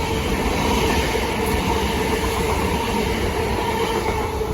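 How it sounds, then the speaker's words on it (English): A Southeastern Electrostar electric train rolls past near Wandsworth Road in London, a loud, steady rumble of wheels and motors with faint clicking over the rails and a high electrical whine. "Next train to pass by will be another Southeastern Electro Star bound for Victoria."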